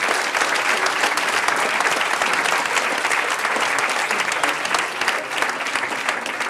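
A large audience at an evening conference gives the hosts a full round of applause, steady and dense from start to finish, with no talking over it.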